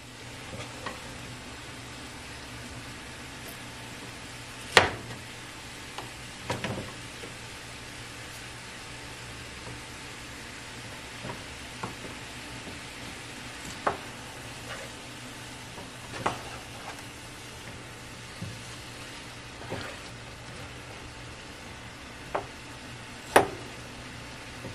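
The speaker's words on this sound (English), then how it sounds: "I'll stir this around more" Sausage with broccoli and cauliflower sizzles steadily in a pan for a gratin, a constant hiss broken by scattered scrapes and clicks of a utensil stirring, fairly close and moderately loud, with no talking.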